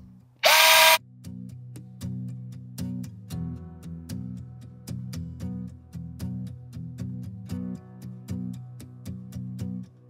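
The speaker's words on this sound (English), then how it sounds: "now that we have our holes drilled in the containers for good drainage" Power drill boring drainage holes in plant containers during spring garden chores, a loud burst near the start followed by a steady run of short, rhythmic drilling pulses with clicks between them, no talking.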